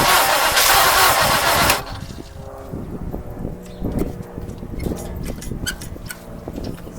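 The starter of a 1959 Mercury Monterey cranks loudly for nearly two seconds, then cuts off, leaving lower uneven clunks, rattles and knocks.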